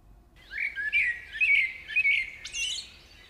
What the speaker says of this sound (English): This, for example, is the song of a forest blackbird.